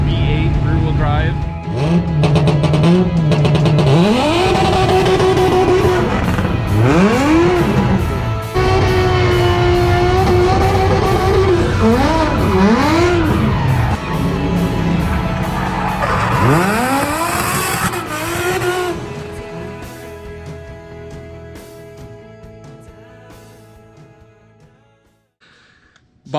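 An Audi S4 V8 rear-wheel drive car revs hard and races through repeated surging engine pulls and tire squeals, loud and close, before the engine note fades away toward the end.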